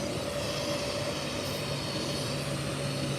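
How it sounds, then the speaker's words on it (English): A TUI Boeing 787-8 airliner at Birmingham airport produces a steady, broad engine roar with a low droning hum, continuous and fairly distant, with no voices. "This is Alfie, the 787-8. A unit of an aircraft."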